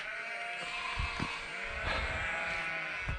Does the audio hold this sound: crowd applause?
no